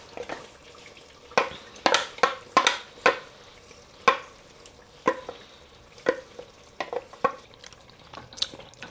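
Jollof rice base with scotch bonnet in a hot pan, heard as a run of sharp spits and crackles in uneven bursts, some clustered and some isolated, close by over a quiet background with no voices.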